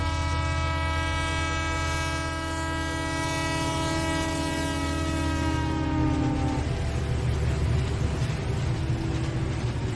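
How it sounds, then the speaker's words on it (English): A train pulls into a railway platform with a long sustained horn blast for about six seconds, then rumbling wheels and carriage noise continue steadily, close and loud. "They had already heard the train whistle. After a few minutes, the train arrived."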